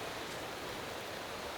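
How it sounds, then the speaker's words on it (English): Steady rain in the racing management game Motorsport Manager, a soft, even hiss of falling water that stays constant and faint throughout. "How long does the rain last?"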